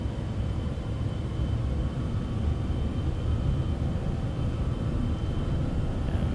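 A steady, loud, broadband roar from the jet engines of a Cessna Citation X (C750) at takeoff power in a flight simulator, rumbling evenly throughout without pauses.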